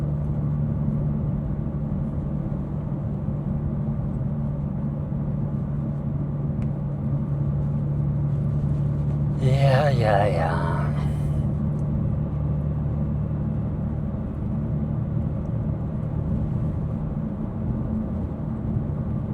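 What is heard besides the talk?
BMW M2 driving with exhaust valves closed, quiet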